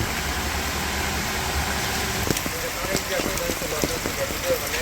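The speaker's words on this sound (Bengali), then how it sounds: "বৃষ্টি রে বৃষ্টি, সারাদিনই থাকে, রাত ধরে হয়েছে বৃষ্টি।" Steady rain falling over a village on a day-long rainy spell, an even close patter on surfaces with a low engine-like hum running underneath.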